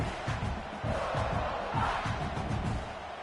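A stadium crowd roars steadily at a college football game between South Carolina and Tulane, a loud, dense wall of cheering and shouting that swells slightly midway and holds throughout.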